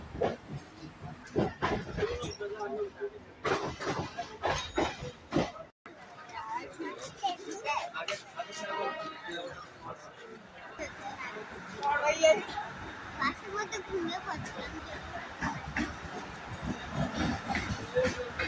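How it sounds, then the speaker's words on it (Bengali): A Mumbai local train running shortly after leaving the station, a steady rumble and rattle with faint clickety-clack, heard from inside among crowd chatter and voices throughout. "ট্রেনে ওঠা দু মিনিট পরে ট্রেন ছেড়ে দিয়েছে"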